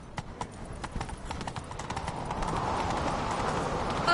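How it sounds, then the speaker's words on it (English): A horse gallops in a video game set in Skellige, its hoofbeats drumming in a quick, close, rhythmic clip-clop that later blends into a rushing, wind-like roar. "Grab a horse, we'll chase him down."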